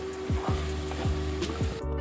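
Okra (bhindi) sizzles steadily while frying in a home kitchen pan, a continuous hiss broken by a few regular knocks of stirring.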